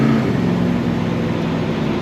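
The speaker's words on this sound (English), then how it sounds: "the sound of that naturally aspirated V8." The naturally aspirated V8 of a 1970 Plymouth AAR 'Cuda drones loudly and steadily at close range, a deep continuous rumble with no voices.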